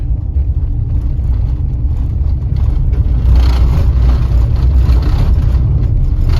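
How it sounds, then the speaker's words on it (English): A car rolls along a washboard gravel road in a forest near town, a steady loud low rumble of engine and tyres with gritty rattling that grows rougher partway through. "Gotta love that gravel road. Good old washboard."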